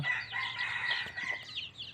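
Bantam chickens and a rooster in a pen, with a steady chorus of clucking and squawks and a crow rising through it, close by and moderately loud.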